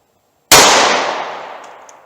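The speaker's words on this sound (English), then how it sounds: "I'm going to aim as best I can and try to place these shots as accurately as possible" A single loud, close pistol shot from a 9mm firing Speer Gold Dot 124 grain +P ammunition, with a sudden sharp crack that rings out and fades slowly over about a second and a half.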